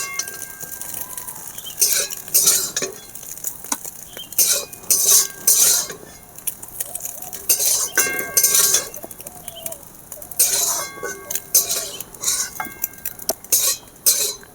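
A metal spatula scrapes and chops fried eggs in a wok, producing repeated bright scraping strokes and metallic clatter in uneven bursts, close and fairly loud, with no talking.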